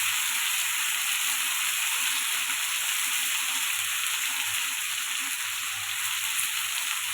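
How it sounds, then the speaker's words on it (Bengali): Cabbage frying in a pan with salt and turmeric for a Bengali vegetarian dish, a loud, steady oily sizzle with faint low stirring bumps underneath, close and constant with no voices. "খুব ভালো করে কষিয়ে নিতে হবে।"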